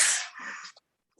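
A single loud sneeze bursts out near the microphone, sharp and breathy, then trails off into a brief softer exhale before quiet, during a live religious Q&A session.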